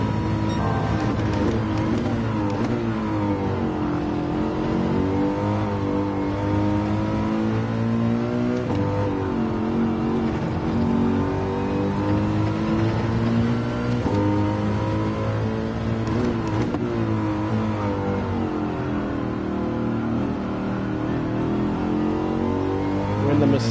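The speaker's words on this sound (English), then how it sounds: "We're in the Mercedes GT." Mercedes GT race car in Gran Turismo 7 during a manufacturer race, its engine droning steadily and loudly throughout, rising and falling in pitch through gear changes with no talk over it.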